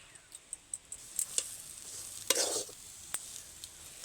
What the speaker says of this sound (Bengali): এই সময় নাড়তে একটু অসুবিধাই হবে, যেহেতু একদম শক্ত শক্ত হয়ে গেছে